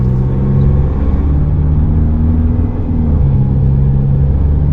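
Isuzu D-Max pickup driving on a road, a steady loud engine drone with low rumble and gear-related pitch shifts, heard from inside the cabin.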